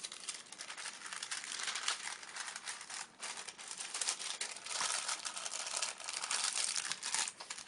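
Plastic bag crinkling continuously and fairly close as a hand-altered composition notebook is slid inside, a steady papery rustle with small bursts throughout and no talking.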